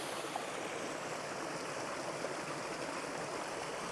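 Floodwater from a severe thunderstorm rushes steadily past a farm dam and road, a constant broadband roar of fast-flowing water heard up close with no voices.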